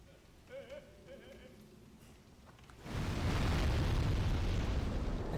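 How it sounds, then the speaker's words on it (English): A magic missile spell in Demon's Souls bursts into a loud, roaring blast that swells suddenly and rumbles on, following a quieter stretch of game ambience and soft tones. "Fire your magic missile."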